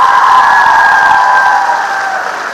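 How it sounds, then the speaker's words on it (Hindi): Loud, steady applause from a large crowd at a public inauguration event in Rajasthan, sustained clapping with a few faint cheers that tapers slightly toward the end. "जोरदार तालियों से स्वागत"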